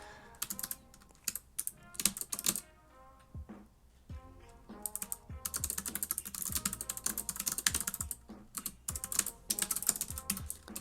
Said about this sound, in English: I don't look at the keyboard when I type